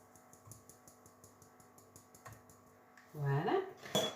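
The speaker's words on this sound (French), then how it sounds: "Et je vais tamiser tout ça." Flour and baking powder are sifted for muffins, giving a faint, steady run of rhythmic clicking taps. A voice and louder kitchen handling break in at the end.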